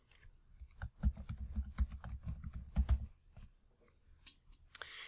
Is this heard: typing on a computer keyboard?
yes